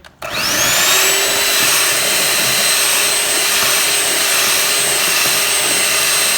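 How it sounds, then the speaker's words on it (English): An electric mixer whisks carrot cake batter until fluffy, a loud, steady high whine that starts abruptly and holds constant throughout. "Whisk this till it is nice and fluffy"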